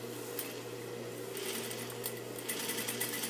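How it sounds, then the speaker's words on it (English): A sewing machine runs steadily while top stitching denim jeans, giving a close, continuous mechanical hum with a fast rhythmic needle clatter throughout and no pauses. "anytime I do top stitching like this, I'm not going to back stitch"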